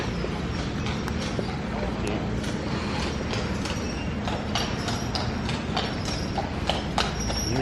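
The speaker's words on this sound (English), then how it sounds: "We're just walking through our resort and I just heard the trotting." Horse trotting while pulling a horse and cart through a resort at Disney's Animal Kingdom area, a steady clip-clop of hooves over a busy outdoor background murmur of people.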